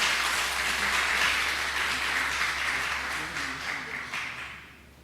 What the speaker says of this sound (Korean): 올라오실 때 박수로서 여러분 격려해 주시면 됩니다.